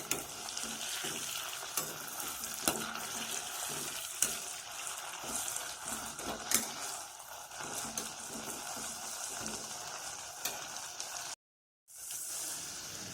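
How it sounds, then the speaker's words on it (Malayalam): Ivy gourd (kovakka) fry stirred in a pan after cooking covered, with a continuous sizzle and repeated spatula scrapes and taps, close and steady with no talking. "നമുക്കൊന്ന് തുറന്ന് നോക്കാം ഇതൊന്ന് ഇളക്കിയിട്ട് കൊടുക്കാം"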